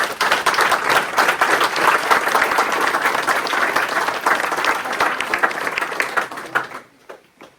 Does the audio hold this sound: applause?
yes